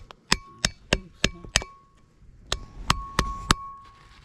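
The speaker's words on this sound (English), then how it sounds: "y'all can use the old seal to tap the new seal in" A new wheel bearing seal on a Ford truck is tapped in using the old seal as a driver: about ten sharp metallic hammer strikes with ringing clinks, in two quick bursts separated by a short pause.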